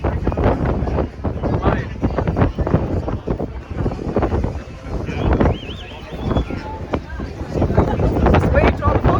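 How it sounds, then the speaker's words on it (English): Strong wind buffets the microphone on the open deck of the Wonder of the Seas cruise ship, a loud continuous rumble and gusting roar under a speaking voice throughout. "let's see how windy it is. That's windy."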